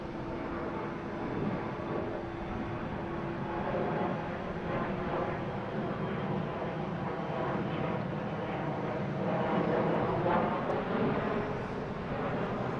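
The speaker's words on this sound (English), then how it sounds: "we have Delta coming in from Barcelona, an A330-300" A Delta Airbus A330-300 arriving from Barcelona at Boston Logan International Airport gives a steady distant jet roar that swells slightly toward the end, heard alone with no talk.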